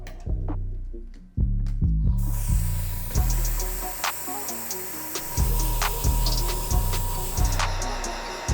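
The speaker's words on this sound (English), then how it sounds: "we're gonna be laying down some white airbrush paint through my airbrush" An airbrush sprays white paint onto sneakers in a continuous soft hiss, broken by a few brief pauses and low bumps of handling nearby.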